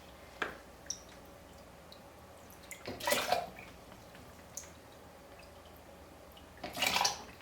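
Water is poured into a blender holding hemp seeds for homemade milk, in two short splashing bursts separated by quiet kitchen moments and small drips.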